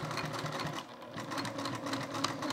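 Close, continuous whir of a sewing machine running a separation seam along the center fold of a toiletry bag, steady with small fluctuations in speed.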